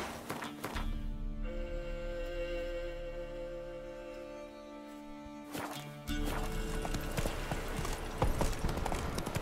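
Geralt's horse Roach in The Witcher 3, its hooves drumming out a steady clip-clop over a layered droning game backdrop that swells louder near the end.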